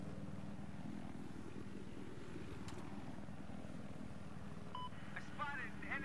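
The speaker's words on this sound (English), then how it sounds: "I spotted an enemy helicopter." An enemy Little Bird helicopter in Battlefield 4 drones with a faint, steady rotor hum and low throb under in-game noise, with brief electronic beeps near the end.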